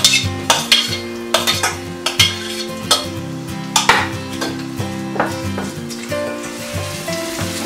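Chopped onions fry in hot oil for a Maharashtrian egg curry while a spatula scrapes and clacks against the pan in a loud, uneven rhythm over a constant sizzle.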